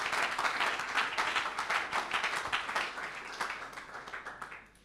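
Steady applause from a church congregation during a Sunday worship service in French, a dense wash of many hands clapping that fades slightly toward the end, heard at moderate distance.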